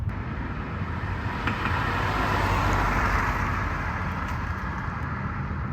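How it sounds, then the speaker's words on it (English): Engine and road roar from inside a tuned 250-horsepower car driving on the road, a steady broadband rumble with wind and tire noise and no talking. "let's go take this car for a quick spin"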